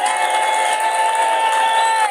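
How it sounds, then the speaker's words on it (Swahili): An audience applauds at a church gathering, a dense, sustained wash of clapping heard close and loud with a slight cheering tone throughout. "Makofi bado hayajatosha"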